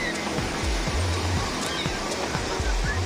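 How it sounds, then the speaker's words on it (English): Ocean surf at Santa Monica beach near the pier rushes in a steady, continuous wash, with waves breaking repeatedly in low rolling pulses under faint, distant voices. "Here comes a wave."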